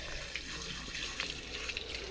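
Tap water running to rinse a coffee machine portafilter, a steady splashing hiss with small spattering drips, close and moderately quiet, continuous for the whole moment.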